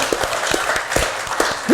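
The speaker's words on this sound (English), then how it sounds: "Round of applause, please." Audience applause breaks out at a backyard quiz show, a dense, steady patter of many hands clapping for the short stretch, with a few louder claps standing out.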